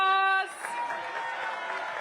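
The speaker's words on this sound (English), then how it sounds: "Let's give Coach a big round of applause." A sustained tone cuts off, and a crowd at a seniors' festival in Washington, D.C. breaks into steady, moderately loud applause that continues evenly to the end.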